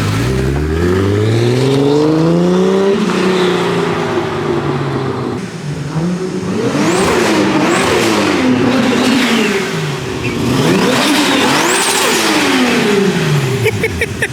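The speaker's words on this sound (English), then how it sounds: "it sure sounds like a Supra" A Toyota Supra engine, an older auction car in rough condition, revs up repeatedly in loud rising and falling sweeps, close by, with no talking.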